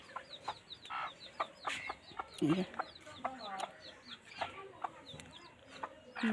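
A hen clucks repeatedly in a farmyard alongside her newly hatched chicks, whose high peeping chirps are scattered through the scene, with occasional rustling and faint background voices.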